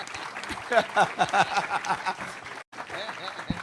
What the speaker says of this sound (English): Clap your hand for yourself, man.